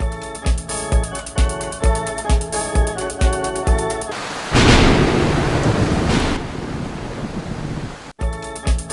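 Animated rain and thunder: a rhythmic pattern gives way to a heavy, close roll of thunder that rumbles for a few seconds over rain hiss, then cuts off abruptly, with no voices.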